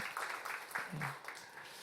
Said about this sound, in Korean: 우리 감사와 영광의 박수를 올려드렸으면 좋겠습니다